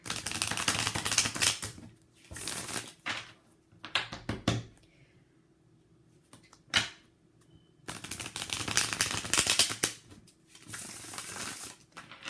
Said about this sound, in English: let's just pull out some cards from this deck here to see if we have any other clarity